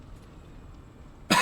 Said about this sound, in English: I just coughed for dramatic effect.